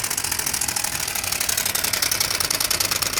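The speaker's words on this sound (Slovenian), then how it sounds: "Evo, da potestiramo, če dela naš motor." A homemade motor built from a Pony moped runs steadily, a buzzy, rattling small engine hum with rapid even pulses, loud and close throughout.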